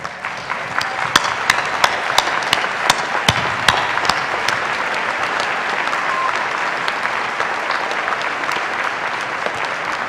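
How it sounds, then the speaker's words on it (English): A commencement audience stands and applauds parents and families, producing a steady wash of clapping with scattered sharp, louder claps near the front. The applause holds evenly for the full ten seconds. "the students and I will give you a round of applause"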